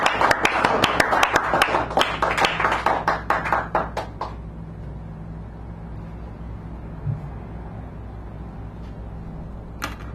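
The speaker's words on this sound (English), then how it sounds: "Give him a round of applause, please." A small audience at a poetry reading in a San Francisco cafe claps briefly, a short burst of individual hand claps that tapers off after a few seconds, leaving a quiet room hum.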